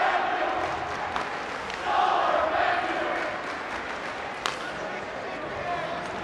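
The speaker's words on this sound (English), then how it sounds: "I cannot hear myself. That's how loud the crowd is" Loud, roaring crowd at a high school hockey game between Grand Forks Central and Fargo Davies, a steady wall of cheering that swells midway, with a sharp whistle-like accent near the end.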